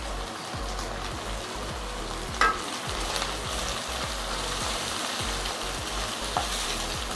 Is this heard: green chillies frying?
yes